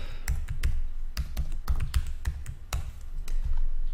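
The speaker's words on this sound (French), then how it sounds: "Vous saisissez simplement votre mot de passe et une deuxième fois en dessous dans confirmer le mot de passe" A password is typed on a computer keyboard, with close, crisp keystrokes in an irregular quick rhythm of about a dozen clicks and short pauses between bursts.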